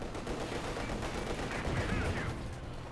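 Maxim machine guns fire sustained bursts in the strategy game Company of Heroes 2, a dense continuous rattle of gunfire with battle noise, steady and fairly loud throughout.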